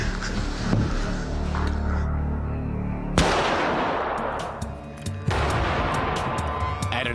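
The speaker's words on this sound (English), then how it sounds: "Matt's bullet blasts into the vest" Loud gunshots fired into a Goldflex body armor vest: sharp cracks at intervals with rumbling echoes, over a dense, noisy background.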